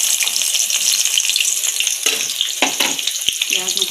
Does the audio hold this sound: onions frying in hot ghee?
yes